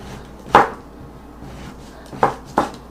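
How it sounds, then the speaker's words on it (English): A knife chops yellow summer squash on a board: one crisp chop, a pause, then two more quick chops close by, with no talking. "So we just chopping this squash up, just like so."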